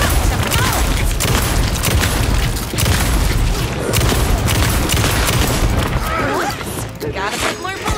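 Gunfire in Alan Wake 2: loud, rapid shots and heavy booms crack out in dense bursts, mixed with crashing impacts and a voice speaking over the action.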